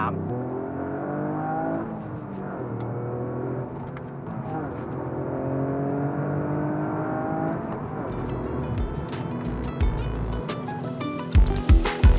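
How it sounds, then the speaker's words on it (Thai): A three-cylinder car pulls along in third gear, its engine note rising steadily as it accelerates, heard close from inside with road rumble beneath and a few sharp knocks near the end. "เดี๋ยวเราขออนุญาตลองขับดูนะฮะ สั้นๆ ตอนนี้เราอยู่ที่เกียร์ 3"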